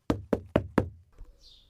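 Four firm knocks on a farmhouse door, evenly spaced and close, sounded as an effect during a read-aloud fairy tale, followed by a faint tail of background noise.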